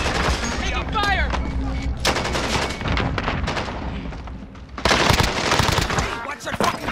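Rapid bursts of automatic gunfire in Call of Duty Warzone on the Verdansk map, loud and dense, with sharp volleys continuing throughout and players' voices talking over the shooting.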